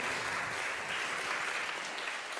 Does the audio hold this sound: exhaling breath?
no